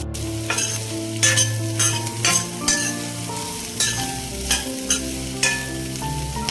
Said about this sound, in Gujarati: ગાજર, કોબીજ, હવે આપણે આને હલાવી લઈશું